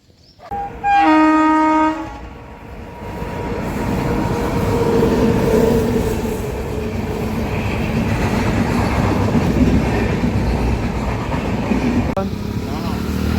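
A train horn blasts loudly, then a train rumbles past with a steady rattling roar that continues for several seconds.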